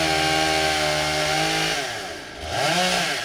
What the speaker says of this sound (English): look at how big that chainsaw